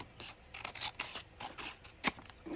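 New scissors snip through paper in a quick series of short, close cutting strokes, with one sharper snip near the end, in a quiet room.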